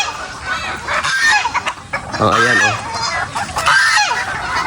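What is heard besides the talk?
chickens and fowl calling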